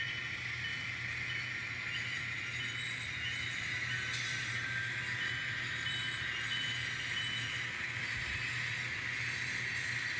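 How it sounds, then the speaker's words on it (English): An N scale model coal train with dirty, oxidized wheels rolls along a layout track, giving a steady close hiss and rumble with a low hum throughout and no talk. "See if we can take this coal train up over mountain."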